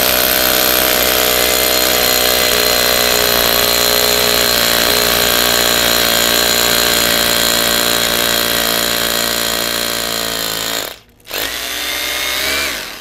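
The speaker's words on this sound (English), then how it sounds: "let's drill on through some concrete" A hammer drill whines and rattles continuously at close range as it bores through concrete, grinding steadily for several seconds before briefly stopping and starting again.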